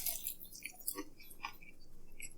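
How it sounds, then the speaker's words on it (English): Close, moist chewing of a frozen DiGiorno pepperoni pizza, with soft irregular crunches and squishy bites repeating over a couple of seconds, no talking. "Chew."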